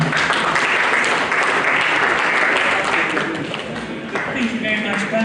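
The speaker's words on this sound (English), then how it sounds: "Please just clap for her." Conference audience applauding loudly and continuously at a real estate and infrastructure event, a dense wash of clapping that holds steady throughout with a murmur of voices underneath.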